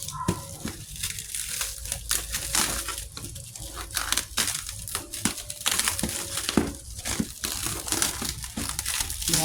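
A tightly sealed cardboard box holding six Aglaonema plants is pried open, producing continuous close crinkling and crackling of packing material with sharp tearing snaps throughout.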